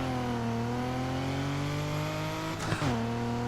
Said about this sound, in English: It sounds like what a Supra would sound like. I like the sound of this car.